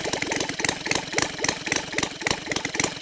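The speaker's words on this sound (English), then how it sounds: "Okay, so you see it idles here pretty good for quite a bit" A Saito 450 model engine converted to run on gasoline, idling with a steady, rapid chugging pulse, loud and close, with no one talking over it.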